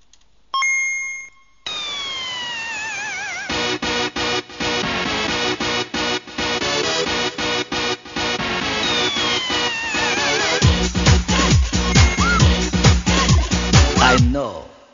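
A 1980s synthesizer keyboard remix, loud and busy: bright electronic melody lines over a driving beat, with a brief chime intro before the full arrangement kicks in and a heavier bass section near the end.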